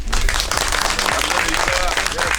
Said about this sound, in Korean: 여러분들이 박수 한번 쳐주시죠.